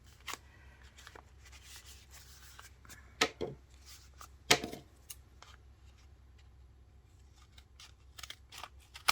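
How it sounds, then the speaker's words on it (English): Scissors snipping paper pieces for a handmade cowgirl-themed journal, a quiet series of separate close cuts with short pauses between them and soft paper rustling in the background. "And I'm going to cut that."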